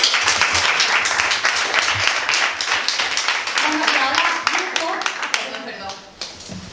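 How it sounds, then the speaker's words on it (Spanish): Audience applause at a book presentation, dense clapping filling the room for several seconds and thinning toward the end, with voices talking over it. "Muy bien, un aplauso."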